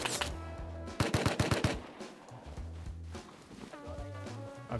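Rapid burst of video game gunfire during a sci-fi base assault against Zerg, a loud cluster of closely spaced shots over steady game music and effects, followed by quieter scattered ambience.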